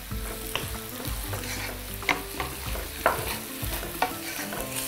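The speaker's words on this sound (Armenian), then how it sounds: "Խառնենք եւ խավարտի համար նախատեսված տապակի մեջ եղած բաղադրիչները" Ingredients being stirred in a frying pan, a steady close sizzle broken by regular utensil scrapes and clacks against the pan roughly once a second.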